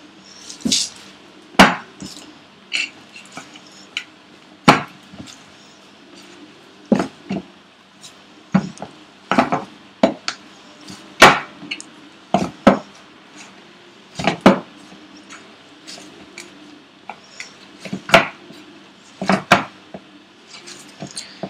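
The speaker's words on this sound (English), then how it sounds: "I'm going to blend this together so that the oil seeps into the dough and makes it nice and moist" Paratha dough being worked with oil in a bowl, heard as a scattered run of sharp knocks and clinks against the bowl with soft squishing in between, close and irregular, with no talking.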